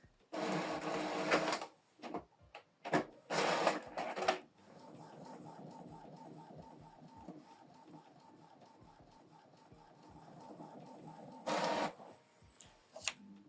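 An Epson EcoTank ET-3950 inkjet printer runs a photo print, giving loud mechanical bursts and clunks of paper feed early on, then a steady whirring print-head pass, with a final clattering burst near the end; no voices.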